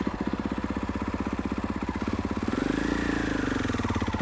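Dirt bike engine thumping at a low steady idle in an enduro riding lesson, its rhythmic chug swelling briefly as throttle and clutch feed in more power, then settling again.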